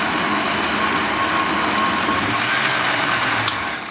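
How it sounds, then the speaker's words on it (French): Kitchen blender motor running hard while blending a kale smoothie, a loud steady high-pitched whir with a gritty churning texture, straining enough to give off a burning smell, continuous throughout without speech. "Et le mélangeur commence à dégager une odeur de brûlé aussi, ce qui indique que le moteur travaille très très bien, très fort."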